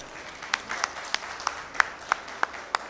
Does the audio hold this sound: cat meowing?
no